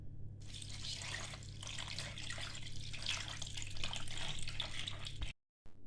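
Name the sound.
pouring 1 litre of water into a pot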